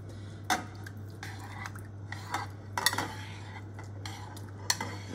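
Chicken meat being put into a saucepan of water, with quiet clinks of utensils against the pot and soft wet splashes over a steady low hum.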